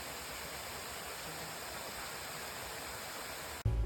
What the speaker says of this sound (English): Madison Creek Falls is a stunning 60-foot waterfall.